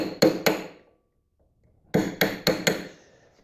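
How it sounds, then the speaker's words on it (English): Metal-on-metal hammer taps on a chisel opening a lock nut on a Yamaha Raptor 700 ATV: two sharp strikes, a pause, then four more ringing blows in quick rhythm, close and loud. "just take a screwdriver or a little chisel or something and just open those up a little bit."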